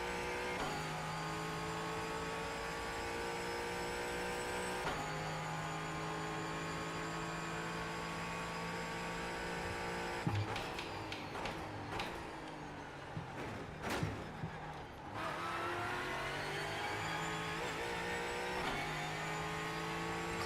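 A race car engine in the iRacing sim, held at a steady high drone while chasing a Mustang, with a busier stretch of shifting and revving in the middle before it settles back to a continuous whine.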